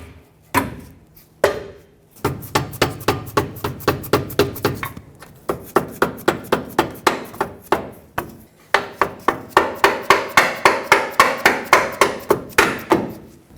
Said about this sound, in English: use a rubber mallet